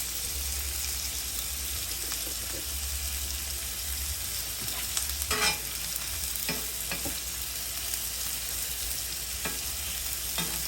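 Minced onions frying in a pan, a steady close hiss and sizzle that runs throughout, broken by a few scraping stirs near the middle.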